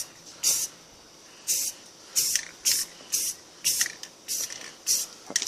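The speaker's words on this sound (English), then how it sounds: "Just add some more, and that's what's beautiful about spray paint." An aerosol spray can paints a rifle in repeated short hissing bursts, about ten in a steady rhythm, close and loud with brief quiet gaps between them.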